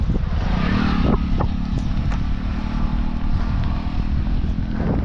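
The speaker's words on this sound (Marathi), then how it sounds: "वारं तुम्ही बघू शकता की ते घंटाट वारं चालू आहे" Strong monsoon wind roars steadily and loudly across the microphone on a road near forest, a dense rumbling buffet throughout with no speech.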